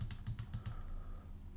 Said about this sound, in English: you can press the X key on your keyboard